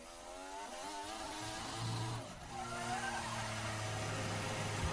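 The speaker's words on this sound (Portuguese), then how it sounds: "você vê que patina tanto, chegou até no limitador, né? O carro." A Formula 1 car at the 2019 Canadian Grand Prix qualifying, wheels spinning as the engine bangs against the rev limiter, a loud buzzing, stuttering high-pitched roar that holds close and steady throughout.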